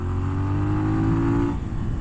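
A 2014 Moto Guzzi Griso motorcycle engine pulls hard under acceleration, a steady low throaty drone with strong harmonics that shifts pitch near the end, close and loud, with no talking.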